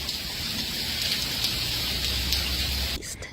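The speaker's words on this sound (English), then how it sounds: "we had another bout of hail" Hail pelting down during a severe spring storm, a dense steady roar of hard impacts with occasional sharper clicks, loud and constant before easing off abruptly near the end.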